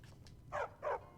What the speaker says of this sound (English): Is the dog following me now? I think it is.